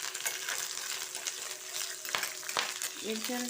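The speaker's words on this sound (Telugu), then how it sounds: "తర్వాత నల్లేరు కాళ్ళు కూడా వేస్తున్నాను." Veld grape stems and green papaya frying in a pan, a steady close sizzle with a couple of sharp utensil clinks and scrapes, and a faint tonal hum near the end.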